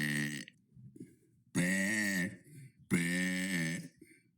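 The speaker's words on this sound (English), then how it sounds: "That was day 38 of burping for 100 days." A person lets out three burps: a short one at the start, then two long, loud, drawn-out belches with a rough, vibrating tone, separated by brief pauses.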